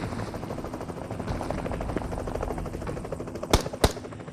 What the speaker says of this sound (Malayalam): ഹെലികോപ്റ്റർ വരുത്.